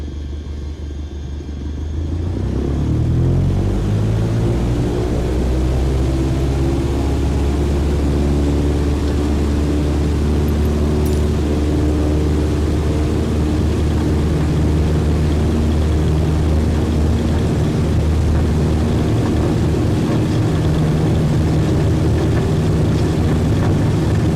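An airplane engine during takeoff in a flight video game, starting quieter then swelling within a few seconds into a loud, steady droning rumble with rising whine that holds throughout, no talk.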